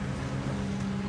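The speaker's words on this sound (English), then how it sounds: "Cut your engines now!" Boat engines idling on a harbour, a steady low drone with a constant hum throughout, moderately loud and unbroken, with no speech over it.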